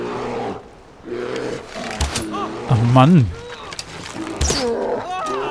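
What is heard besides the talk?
bear roaring in the video game Far Cry 4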